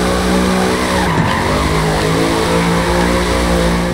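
A 2016 Mercedes-AMG C 63 Coupe Forza Edition in Forza, rear-wheel-drive drift tune, drifting with a loud continuous tire squeal over a steady droning engine, close and unbroken throughout.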